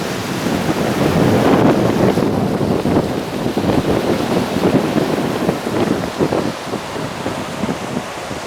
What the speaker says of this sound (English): There's a bit of wind now, as you can no doubt hear